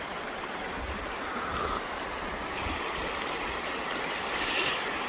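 Flowing stream water rushes steadily outdoors, a continuous, even wash of sound close by with no talk over it.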